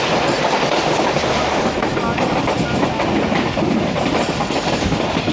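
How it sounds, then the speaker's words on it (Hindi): The 17 Up Millat Express passing before Samasatta in Pakistan, a loud continuous rumble of rolling wheels and rattling carriages heard close and unbroken throughout. "समरसट्टा से पहले ही है 17 अप मिल्लत एक्सप्रेस।"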